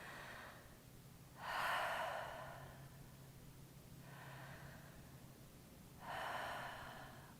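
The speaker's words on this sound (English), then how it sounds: "and then breathe in" A person recovering from surgery leans on their hands on their knees and takes breaths close to the mic: two strong airy inhales and fainter exhales in a slow repeating cycle, quiet otherwise.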